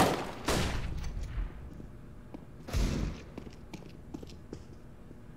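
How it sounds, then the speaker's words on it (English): A flashbang grenade goes off in CS:GO, two sharp bangs a couple of seconds apart, each with a bright crackling burst that fades quickly, followed by scattered small clicks and footsteps. "Throwing flashbang."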